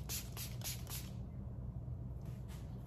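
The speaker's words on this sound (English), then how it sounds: "Now I'm gonna spray some of this sea salt spray on it." Sea salt hair spray is misted onto a synthetic wig in several short, close bursts, then a pause and one more brief spritz, all quiet and airy.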